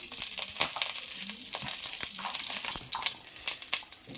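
Fennel seeds sizzle and crackle steadily in oil in a pan close by, with small pops and a few stirring clinks throughout.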